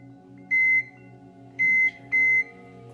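An oven is set to preheat to 410 degrees: three short, clear electronic beeps, the first alone and the last two close together, sound over a steady low kitchen hum.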